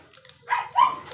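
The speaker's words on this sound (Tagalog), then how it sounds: "Maingay ng aso." A dog gives two short, close barks in quick succession, loud and distinct against a quiet background.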